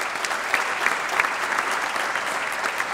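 Steady, dense applause from an audience at a small business recognition awards event, honoring Boston Lasers of Amesbury, sustained at an even level for the full stretch without pause.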